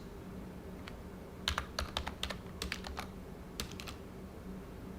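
Keys clack on a computer keyboard at a Linux desk in a short irregular burst of quick taps, fairly faint against a steady hum of computer fans.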